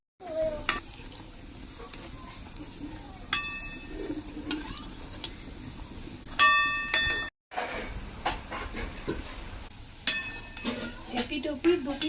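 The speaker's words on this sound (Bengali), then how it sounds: "তেল গরম হয়ে গেছে, এবার একে একে ছেড়ে দেবো তেলে।" Semolina dumplings stuffed with spiced potato and onion frying in hot oil, a steady bubbling sizzle broken by sharp clinks of a metal utensil against the pan, with a voice talking now and then.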